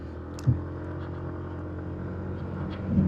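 A Yamaha NMAX Turbo scooter riding uphill in Baguio, a steady low engine drone heard from on board, with a brief knock near the start and a slight rise in revs at the end.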